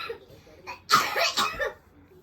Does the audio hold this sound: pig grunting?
no